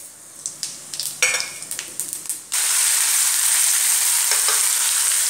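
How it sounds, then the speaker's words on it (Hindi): Red chilies and whole spices hit hot oil for a spinach sabji: a few light clinks and stirring scrapes come first, then a loud, steady sizzling hiss starts abruptly and continues close up to the end. "ऑयल गरम होने के बाद इसमें डालेंगे रेड चिली डालेंगे, और साबुत मसाला को सब डाल देंगे इसमें।"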